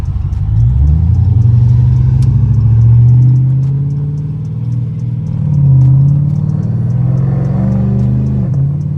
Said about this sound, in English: Semi-truck flying around that corner.